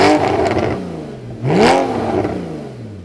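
A Porsche Cayman S with an Armytrix valvetronic exhaust set open revs twice, each blip climbing sharply to a loud, close, raspy howl and falling away between them.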